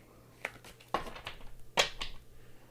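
Tarot cards being shuffled by hand at close range, heard as a few sharp, quiet riffles and taps with short gaps between them, with no talk over them.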